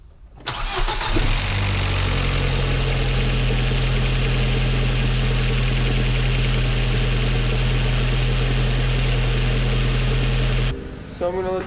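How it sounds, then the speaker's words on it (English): A car engine cranks and catches after an ignition harness replacement and 2.0 coil pack conversion, then settles into a loud, steady idle close to the microphone for about ten seconds before cutting off abruptly. "I can finally start up the car."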